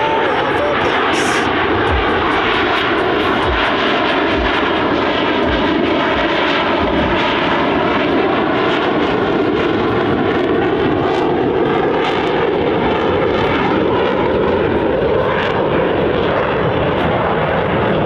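Blue Angels F/A-18 Super Hornet jets roar past at an airshow, a loud continuous engine thunder with sweeping tonal shifts as they fly by, under an announcer's voice over the loudspeakers.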